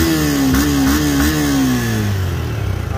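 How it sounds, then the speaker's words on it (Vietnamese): Motorcycle engine running close up, a loud steady drone that revs briefly in small surges and then settles down to a lower idle, with no talk. "máy nổ khỏi cần phải nói rồi"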